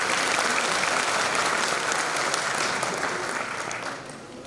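Audience clapping at a university Republic Day celebration, a steady wash of many hands applauding close and loud, then gradually tapering off.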